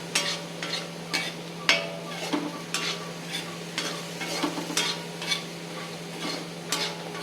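Ingredients roast in a pan for a Tiruvathirai mixed-vegetable kootu while a spoon stirs them, giving repeated scraping strokes over a soft steady sizzle and a low hum.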